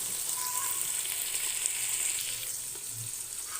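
Tomatoes tossed into a pan of onions that are still frying and not yet browned, giving a steady close sizzle that carries on evenly with no talking.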